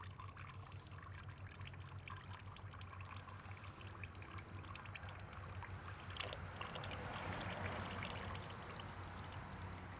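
Old oil trickles from a Mud Buddy 4000 EFI outboard motor in a steady, faint liquid dribble that grows slightly stronger toward the end, with no talking.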